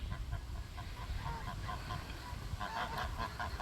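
Geese honk on a farm in a continuous noisy chorus of overlapping calls, loud and close, with rustling and movement throughout.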